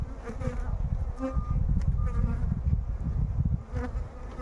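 A dense, steady hum of many honeybees buzzing close by at an eight-frame hive, continuous and fairly loud with no voices.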